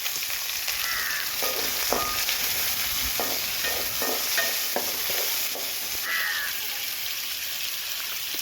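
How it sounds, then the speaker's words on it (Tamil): Curry leaves and other ingredients for country chicken gravy sautéing in a pan, with a steady sizzle and intermittent spatula scrapes. Crows caw faintly in the background, and no one speaks. "ரெண்டையும் நல்லா வதக்கலாம்."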